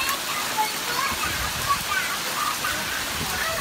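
Heavy hail pounding down during a storm on Lunar New Year's Day in Tam Nông, Phú Thọ, a dense, loud, continuous hiss and rattle of falling ice.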